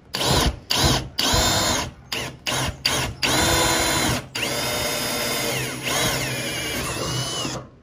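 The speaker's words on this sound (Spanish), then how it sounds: "Y traten que el taladro esté siempre vertical" A power drill bores a hole while building a sliding door, running in several short loud bursts before a longer sustained whine with pitch shifting as the bit cuts, close and with no talking.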